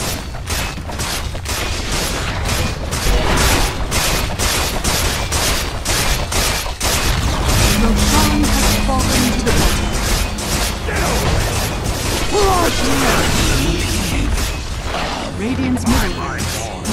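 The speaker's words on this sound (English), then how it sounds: "Radiant's middle tower has fallen." In Dota 2 gameplay, a tower is destroyed amid loud, dense combat effects: rapid crackling impacts, bursts and crashes follow one another without pause, with a voice heard over the action.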